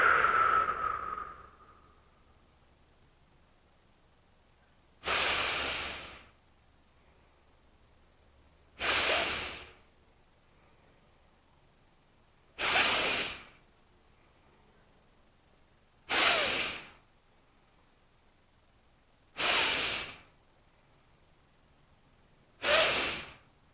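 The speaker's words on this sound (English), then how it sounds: "breathing in through the nose and out through the mouth" Six slow, evenly spaced breath cycles, each a strong inhale through the nose followed by an exhale through the mouth, heard close and alone with long quiet pauses between them during a breathing practice.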